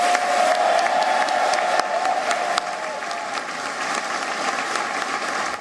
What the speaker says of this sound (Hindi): सभागार में तालियों की गड़गड़ाहट शुरू हो गई।